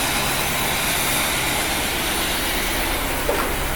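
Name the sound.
1975 Chevrolet C3 Corvette engine idling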